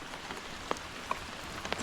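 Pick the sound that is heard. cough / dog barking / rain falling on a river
rain falling on a river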